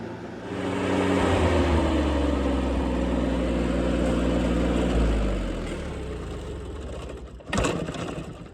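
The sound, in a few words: John Deere 322 lawn tractor engine running on after shutoff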